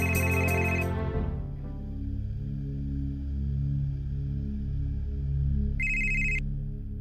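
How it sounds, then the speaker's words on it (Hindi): A telephone rings loud and close in a Hindi family drama scene, an electronic ringtone trilling briefly, then a sustained low tonal hum, and a second short burst of ringing near the end, with no talk. "अबे फोन क्यों नहीं उठा रहा? कब से बज रहा है?"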